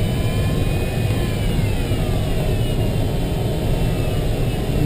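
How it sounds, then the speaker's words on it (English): A glider tow plane's engine drones steadily and loudly at an airfield during winch launches, a constant close roar with no break or pause. "Tow plane's going back to the car anyway."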